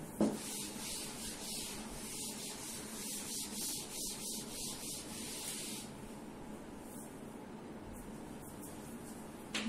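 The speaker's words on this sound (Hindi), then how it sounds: "बाकी सारा पार्ट रब कर देते हैं" Writing is wiped off a classroom board in a maths lesson with steady, hissing strokes for about six seconds, then softer scattered rubbing follows, with no talking.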